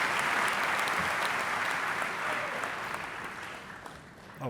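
Sustained audience applause fills a hall during a Basketball Hall of Fame enshrinement speech, a dense steady wash of many clapping hands that holds for several seconds and tapers slightly near the end.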